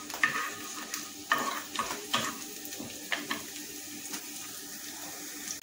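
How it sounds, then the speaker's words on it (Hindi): Garlic fries in hot oil while being stirred, a close sizzle punctuated by repeated spatula scrapes and knocks against the pan, no voices. "ऑयल गर्म हो गया, अब हम इसमें गार्लिक डालते हैं. और हम इसे 2 मिनट्स तक कुक करेंगे."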